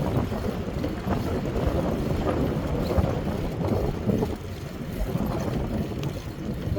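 Wind buffeting the microphone on a bike ride through Plainfield streets: a steady, loud, low rumbling roar that stays constant throughout, with no clear voices over it.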